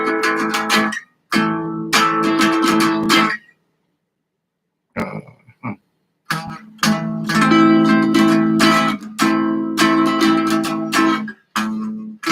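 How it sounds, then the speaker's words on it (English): Guitar chords ring out on the bottom four strings, beginning on G, strummed in several loud bursts separated by short pauses, with a brief quiet gap in the middle broken by a couple of faint scrapes. "Now the bottom 4 string chords."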